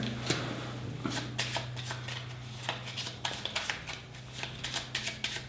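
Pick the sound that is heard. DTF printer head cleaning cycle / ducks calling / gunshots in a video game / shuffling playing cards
shuffling playing cards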